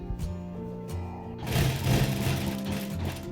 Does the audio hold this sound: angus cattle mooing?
no